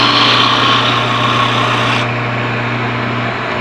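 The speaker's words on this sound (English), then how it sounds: "we'll stop the rotation of the lathe" A wood lathe spins a ring holder blank as it is turned, giving a loud, steady motor hum with a constant whine. Part of the brighter cutting noise drops away partway through.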